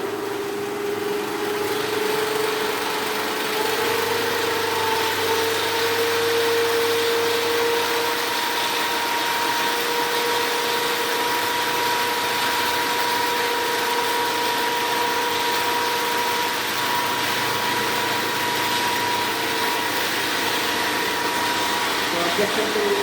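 A DC shunt motor started through a 3-point starter runs at 1500 RPM with a steady, even electric whine and hum that holds constant throughout with no voices.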